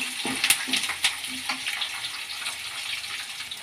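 Peanuts fry in a pan for raw mango chitranna, giving a steady close hiss scattered with small crackles and pops, with no voices.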